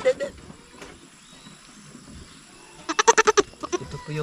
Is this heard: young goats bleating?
yes